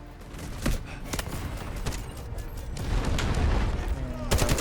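A cruise missile strike lands in the video game Delta Force, with several heavy booms and rumbling explosions rolling through a dense, noisy battlefield mix, and a final loud blast near the end.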